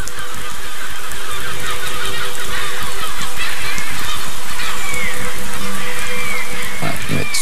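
A flock of geese honking in the video game Besiege, a loud, dense, overlapping clamor that runs continuously throughout.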